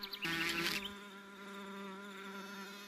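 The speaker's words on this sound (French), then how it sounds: "Les frelons ont de véritables territoires de chasse qu'ils défendent énergiquement." Asian hornets fly close by with a buzzing drone, loud and wavering at first, then settling into a fainter, steady hum.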